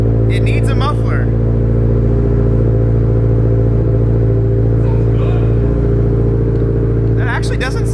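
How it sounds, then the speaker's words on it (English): A 2022 Subaru BRZ with a custom exhaust running only a small resonator idles and revs with a loud, steady, throaty drone, while voices talk briefly at the start and end. "hear what this thing sounds like with a baby resonator and nothing else?"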